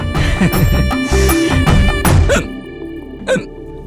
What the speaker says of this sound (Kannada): ಇದ್ ನೀರ್ ಕುಡಿದ್ರೆ ಹೋಗೋ ಬಿಕ್ಕಳಿಕೆ ಅಲ್ಲ ಅದು